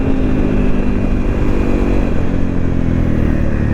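Honda CRF 250 Rally motorcycle riding through wet mud, its engine a steady loud drone close to the rider, with constant rumble and clatter and no speech.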